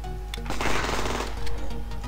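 Rapid automatic rifle fire from a unit in the zombie shooter game Zombie Defense, a dense burst of shots swelling in the middle and recurring in short clusters, loud and close with no talk.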